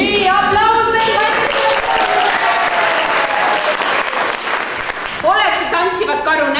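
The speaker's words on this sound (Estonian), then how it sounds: "Nii, aplaus veel." Applause from an audience at a children's Father's Day circus show, dense clapping mixed with children's shouts and cheers, the voices most prominent at the start and again near the end.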